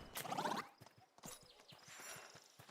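Horse hooves clip-clopping in The Oregon Trail, an 1800s wagon-train survival game, a steady run of light, evenly spaced hoof falls after a brief louder burst at the start.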